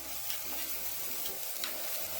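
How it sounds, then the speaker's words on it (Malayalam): Low, steady sizzle of frying in a handmade iron pan over a low flame, a continuous soft crackle with faint stirring scrapes and no voices. "നമ്മളിത് വറുത്തെടുക്കുമ്പോൾ ഫ്ലെയിം കുറച്ചിട്ടിട്ട് വേണം വറുത്തെടുക്കേണ്ടത്"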